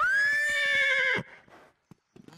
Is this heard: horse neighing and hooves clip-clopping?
yes